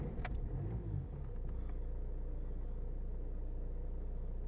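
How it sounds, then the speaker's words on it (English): A car engine cranks briefly after the ignition is turned, then catches and settles into a steady, low idle rumble. "Let's just turn the ignition, see if anything happens."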